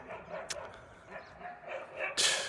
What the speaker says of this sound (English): have the dogs stopped screaming?